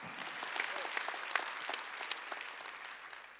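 A church congregation claps together during a Wednesday worship service, a dense, sustained wave of applause that carries on steadily and fades slightly toward the end.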